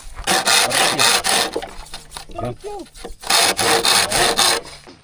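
Hand saw rasping through wood in repeated back-and-forth strokes, with a short pause midway and a faint voice briefly in the gap.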